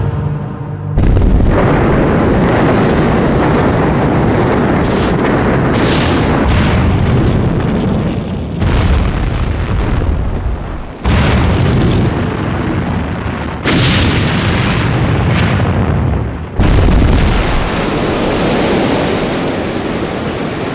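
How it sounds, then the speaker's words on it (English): Detonation destroying a glass tiki bar, a sustained roaring blast with shattering and crashing debris that cuts off and resumes in several long, loud bursts. "The machine has the button which triggers the detonation."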